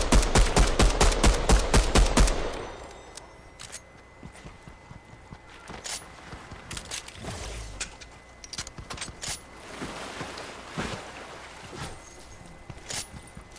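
Fortnite gunfire opens with a rapid, loud string of sharp cracks, then drops into scattered single shots, each a crisp snap spaced out over several seconds.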